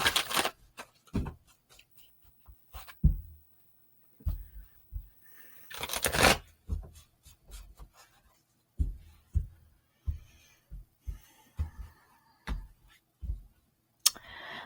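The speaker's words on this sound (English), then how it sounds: "So I'm going to go ahead and shuffle just a little bit more." Crisp riffling and slapping of tarot cards in repeated short bursts, close by, with quiet pauses between shuffles and no talking.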